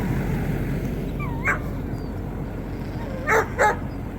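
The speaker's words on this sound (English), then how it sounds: "Of course, the dogs are here playing." Dogs and puppies playing outdoors in falling snow, with a few short yips and whimpering calls at intervals over a steady windy background hiss; no talking.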